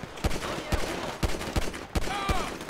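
Several sharp assault rifle shots crack out at irregular intervals in GTA 5, loud and close, with a steady game background hum between the bursts.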